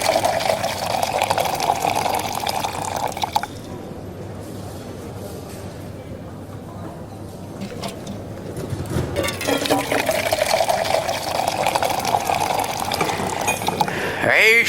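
Coffee poured from a coffee pot into cups at a café counter, a steady liquid trickle with faint clinks of cups and cutlery, close by and continuous, with brief pauses between pours.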